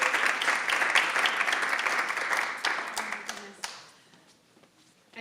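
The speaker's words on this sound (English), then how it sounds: "So let's give her a round of applause." Audience applause at an awards ceremony for a grant recipient, a brisk round of clapping that thins out and fades after about four seconds, with faint talk underneath.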